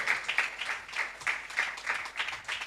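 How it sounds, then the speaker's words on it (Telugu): A church congregation claps in unison to praise God, steady rhythmic bursts of many hands about three per second, moderately loud and with no talking over them. "చప్పట్లు కొట్టి దేవుని మహిమపరుస్తాం."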